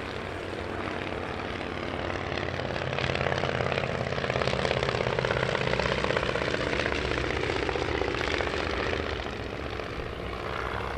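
Vintage propeller aircraft, including a 1937 Miles Magister trainer, fly in formation at an airshow, a sustained droning engine roar that swells as they pass overhead and then eases slightly.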